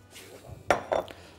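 A mixing bowl set down on a kitchen counter while cooking duck and chicken pasta, giving one quiet clink followed by a second softer knock, close and brief with no talk.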